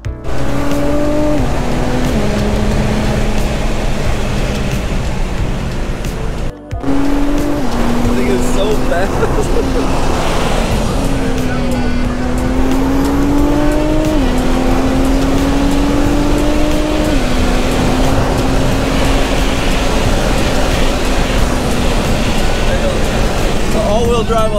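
Nissan GT-R R35 pulling a launch-control start, its engine loud and close, climbing in pitch through a series of quick gear shifts with a brief cut near the start, sustained hard acceleration, and voices talking and exclaiming over it.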